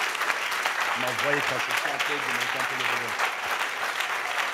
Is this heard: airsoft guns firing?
no